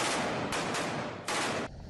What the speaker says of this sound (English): Deafening hail of gunfire.